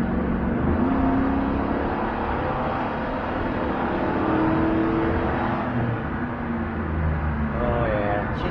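A truck with a 4L80E automatic transmission pulls hard at wide open throttle from highway speed, its engine droning loudly and steadily with rising tones, heard from inside the cab.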